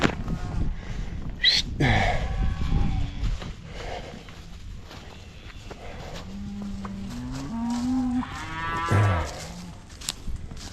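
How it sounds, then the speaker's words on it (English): Cattle on a drive to fresh grass lowing in several drawn-out moos, a few of them close and loud, over outdoor ambience with a brief sound like a breath or gasp. "Cattle cross, naughty cow and its baby."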